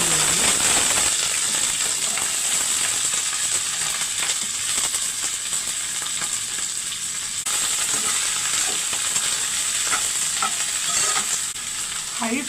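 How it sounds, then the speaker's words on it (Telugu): Okra pieces sizzle steadily in about three tablespoons of hot oil over high flame, with continuous close frying crackle and occasional scraping stirs throughout, no talking. "హై ఫ్లేమ్ మీదనే రంగు మారే వరకు వేయించుకోవాలి."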